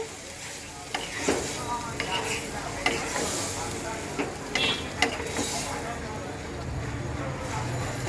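Prawn masala being stirred in a pan after water is added, for a Bengali prawn curry: continuous sizzling and hiss with intermittent spoon scrapes and clinks, a faint voice murmuring underneath at points.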